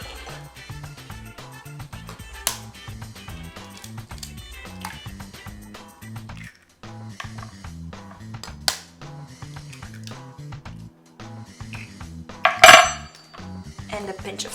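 Two eggs cracked into a bowl for grandma's crepes with meat, sharp clinks of shell against the rim standing out from soft background music in a home kitchen, with one louder knock near the end.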